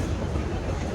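A passenger train rolling along at steady speed, heard from inside the carriage in India as a continuous loud rumble with rattling, no one speaking.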